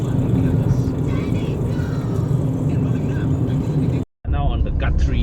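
Proton Persona VVT car cruising on a highway, a steady loud road and engine rumble filling the cabin with a brief dropout near the end, people talking over it.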